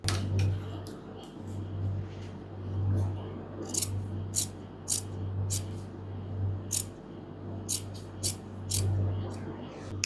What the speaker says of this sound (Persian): اضافات رو قیچی میکنم.